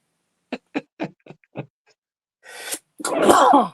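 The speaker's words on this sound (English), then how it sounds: "I'm going to sneeze." A series of short sharp inhales builds up, then a loud, explosive sneeze bursts out close by.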